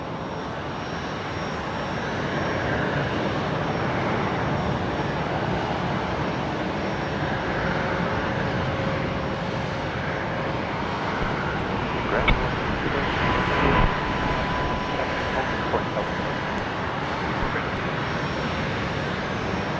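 A China Eastern Airbus A330 departing Brisbane for Shanghai, its jet engines a steady broad roar from a distance, with faint voices and small clicks and bumps nearby.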